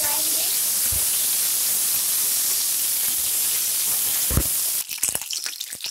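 Green chillies, slit lengthwise for instant achari pickle, drop into hot oil and set off a loud, steady hiss and sizzle that fills the clip before breaking into sharper, uneven spluttering near the end.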